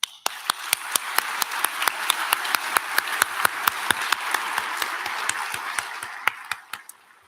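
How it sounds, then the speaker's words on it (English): A graduation ceremony audience applauds the graduates of Centennial Secondary School in Welland in 2022, with a steady wash of clapping across a large hall and sharp individual claps popping out near the front, tapering off at the end. "Please join me in recognizing them with a round of applause."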